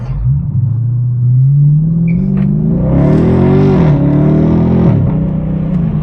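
Mopar car engine accelerating at partial throttle, a loud close rumbling roar that climbs steadily in pitch, eases briefly, then pulls again, heard alone without talk.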